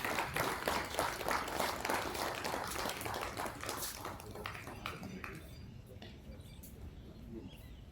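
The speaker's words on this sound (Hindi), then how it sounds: "एक बार हमारे जो आगंतुक है उनके लिए और मुख्य अतिथि के लिए तालियां हो जाए।" Audience applause for visitors and a chief guest at an International Yoga Day event at NDRI Karnal, dense clapping that fades and thins toward the end.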